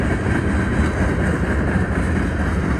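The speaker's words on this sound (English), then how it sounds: "There's some coal trains right there." A northbound BNSF manifest freight train rolls past up close, a loud, steady rumble and roar of heavy railcars with no pauses and no voices.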